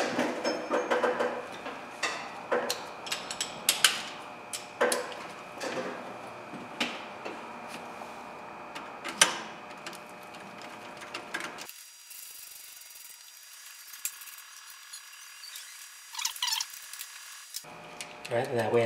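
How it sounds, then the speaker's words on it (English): Ratchet tightening the top alternator bolts on a 2006-2012 Ford F350: rapid clicking strokes in short runs, close up, with a steady mechanical hum under them and a quieter stretch partway through. "now we're going to tighten up the ones on top"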